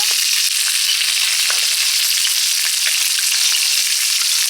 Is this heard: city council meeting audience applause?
no